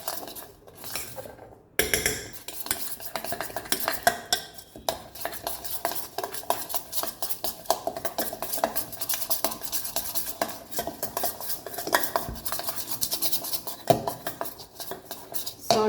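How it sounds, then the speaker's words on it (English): A spoon scrapes and clinks around a bowl as a tandoori pork chop marinade with lime juice is mixed, with busy, continuous close stirring and knocks of cutlery on the dish and no talking. "Mix again."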